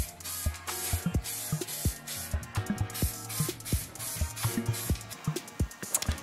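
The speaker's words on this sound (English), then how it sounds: "I stuck the badge on a little wooden stick with blue tack so I could get every angle with the spray can" A spray can of primer hisses in repeated short bursts onto a small badge held on a wooden stick, with sharp clicks and knocks between sprays, close by.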